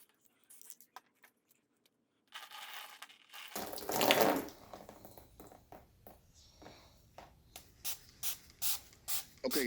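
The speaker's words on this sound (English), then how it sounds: "We're going to be grabbing our power wash soap and spraying all over the tumbler" Power wash soap is sprayed onto a glitter-coated tumbler, a hissing burst of spray swelling to a loud peak, followed by a series of short rhythmic spritzes from a pump bottle, close by.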